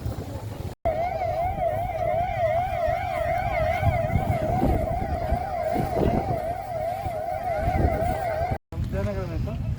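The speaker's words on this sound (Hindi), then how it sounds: "Siren बजाइए, siren." A police siren wailing in a fast, steady up-and-down cycle, loud and close over road noise, with voices talking beneath it.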